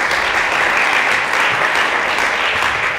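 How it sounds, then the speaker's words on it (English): Dense, steady applause from an audience at a school celebration event in Tembisa, Johannesburg, greeting the school's chairperson, many hands clapping close together without a break for the whole stretch. "A round of applause for him."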